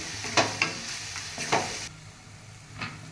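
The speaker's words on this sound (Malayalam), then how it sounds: "ഇത് സ്വല്പം വഴറ്റാം ഒരു ഒരു മിനിറ്റ് വഴറ്റി കൊടുക്കാം നല്ല രീതിയിൽ" Tomatoes sauté in a pan for South Indian rasam, a soft continuous sizzle broken by a few sharp scraping stirs of a spoon against the pan, close by and with no voices.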